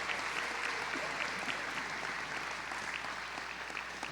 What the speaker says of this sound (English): Another round of applause for Billy.